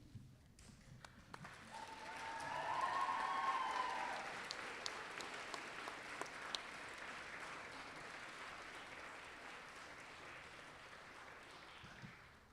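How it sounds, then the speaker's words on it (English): A graduation ceremony audience in Mount Gambier breaks into sustained applause with some cheering, swelling to a peak early on and then holding as steady clapping from a large crowd in a hall. "give them a big round of applause and a cheer"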